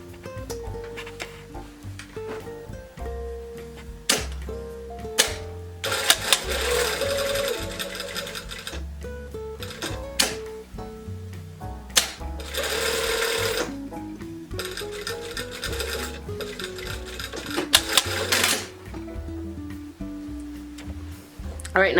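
A sewing machine stitches a seam on pants in fast rhythmic bursts, pausing and restarting several times, close and fairly loud, with light handling noises in between.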